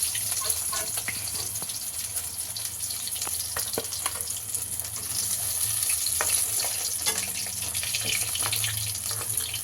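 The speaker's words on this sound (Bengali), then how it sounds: "এই মাছগুলো আমরা ভেজে নিচ্ছি" Steady hissing sizzle of rohu fish pieces frying in hot oil, with scattered pops and crackles throughout, close by and without voices.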